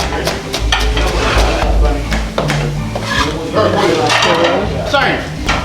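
Pots and utensils clatter and clink in an outdoor Jamaican kitchen as a seafood stew with peas, octopus, conch, shrimp and mussels is cooked, with loud repeated metallic knocks and stirring under ongoing talk.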